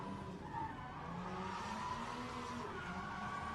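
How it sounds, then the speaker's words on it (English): Tires screeching from a drifting car at a Red Bull Car Park Drift event in Oman, a sustained tire squeal over revving engine noise, moderately distant and steady. "Screeching of tires as he comes past."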